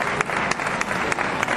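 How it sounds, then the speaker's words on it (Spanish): Applause from the audience at an award presentation during the opening of an agri-food fair in Padul, steady dense clapping throughout with no pause. "con este fortísimo aplauso que se lo merece"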